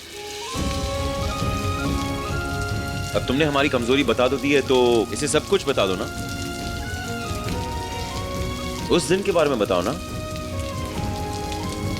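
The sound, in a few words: rain falling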